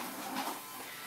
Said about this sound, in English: right now he's picking up the dust here to vacuum it up